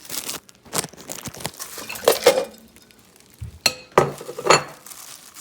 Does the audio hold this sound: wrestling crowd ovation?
no